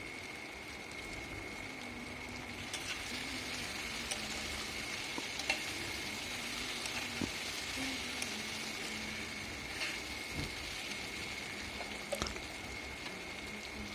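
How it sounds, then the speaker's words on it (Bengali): Teasel gourd and potato sauté with spices in a pan, giving a faint, steady sizzling hiss with occasional light stirring taps, under a constant background hum and with no talk. "ওই কাঁকরোল আলুটা এখানে আমি দিয়ে দিলাম। দিয়ে এটাকে ভালো করে মশলার সঙ্গে কষিয়ে নেব।"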